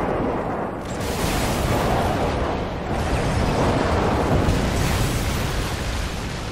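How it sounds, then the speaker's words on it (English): In the video game Call of Duty MW3, an enemy airstrike sets off a long, loud rumbling barrage of overlapping explosions that roll on with almost no gap, thick with low booming blasts. "Enemy airstrike approaching."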